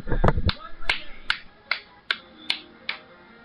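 A single person claps slowly in a steady, evenly spaced series of sharp, crisp hand claps, each ringing briefly, after a short burst of louder noise at the start.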